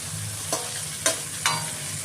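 Potato and brinjal pieces sizzle steadily in a hot, large pot while a utensil scrapes and stirs, giving three distinct scraping strokes over the frying hiss.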